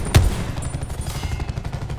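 A VKM 750 light machine gun fires in Call of Duty Black Ops 4: a loud opening shot is followed by a steady, rapid run of thudding rounds, close and continuous, with no talking.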